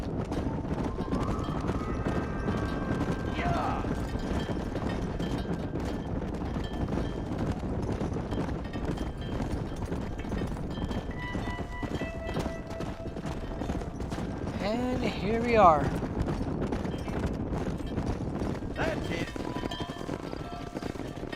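Horse riding in the video game Red Dead Redemption: continuous rhythmic clip-clop hooves at a steady gait under a low ambient bed, with someone talking briefly over it.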